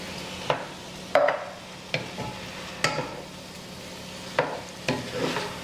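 Black bean soup with salt stirred in a pot, a series of distinct spoon scrapes and knocks at irregular intervals over a quiet background sizzle.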